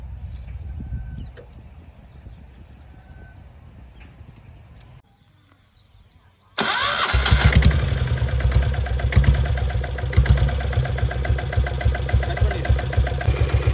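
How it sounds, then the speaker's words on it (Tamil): A 1999 Royal Enfield Taurus motorcycle engine is started after a quiet stretch, then settles into a loud, steady idle with a rapid thumping beat, close by. "வண்டி ஸ்டார்ட் பண்ணி காட்டுறேன் பாருங்கள்."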